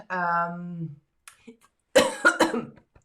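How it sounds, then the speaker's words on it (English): A voice hums a held tone, then after a short pause comes a burst of harsh, close coughs, several in quick succession. "I'm going to go into a coughing fit."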